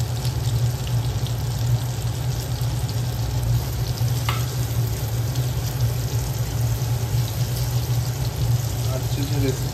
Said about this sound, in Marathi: फिश फ्रायची रेसिपी तयार होत आहे.